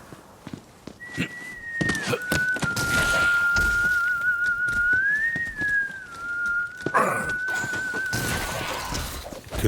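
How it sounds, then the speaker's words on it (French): In a bounty-hunting video game, a single clear whistled note holds steady for several seconds, wavering slightly up and down, over muffled footsteps and thuds with no talk. "Quelqu'un en train de siffler."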